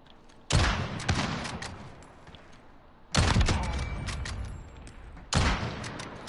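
Video game gunfire during a 1v1 match, three loud bursts of rapid shots, each a sharp crack trailing into rattling echoes, spaced a couple of seconds apart over quiet background.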